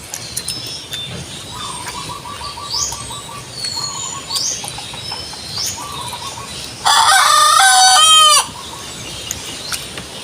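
Native chickens cluck in repeated short calls, joined by chirps, then a loud nearby rooster crow of over a second before the clucking resumes.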